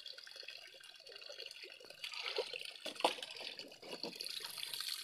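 Water trickles and splashes while rice is being washed, a steady faint running and dripping sound with soft sloshing that grows slightly busier midway.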